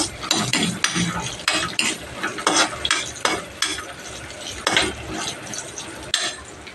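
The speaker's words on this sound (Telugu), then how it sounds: "ఒక 8 పచ్చిమిర్చి, లైట్గా వేగనివ్వాలి." About eight green chillies fry lightly in a pan for a pesarattu recipe, giving a soft sizzle under frequent scraping and clinking stirs from a spoon against the metal.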